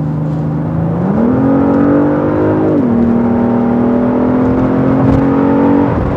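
Genesis G80 Sport in sport mode accelerating hard, its engine note climbing in pitch with a brief shift dip near three seconds, then rising again, loud and close from inside the cabin.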